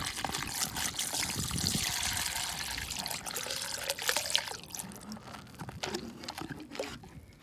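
Fresh water poured through a new funnel into the tank of a Casita travel trailer, a continuous trickling gurgle that runs close to the microphone for the whole stretch and eases off slightly toward the end.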